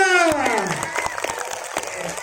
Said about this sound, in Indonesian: kita beri tepuk tangan untuk Kak Bima.